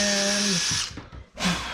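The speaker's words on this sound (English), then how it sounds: "A quick shot with my favorite self-centering drill bit" A power drill with a self-centering bit whines at high speed for a moment, then winds down and stops, followed by a brief second burst, drilling into a wooden boat panel.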